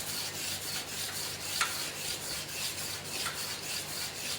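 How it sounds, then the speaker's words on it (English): An emery sheet of 120 grade rubs back and forth over a nodular cast iron workpiece, a soft, steady rasping scrape of quiet, rhythmic polishing strokes with no talk. "The first step of polishing using the emery sheet"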